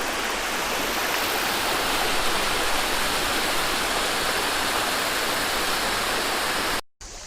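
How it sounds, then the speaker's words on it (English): A constant, loud rush of water from a small waterfall, dense and unbroken, cutting off abruptly for a moment near the end. "Found a nice little waterfall area that runs through"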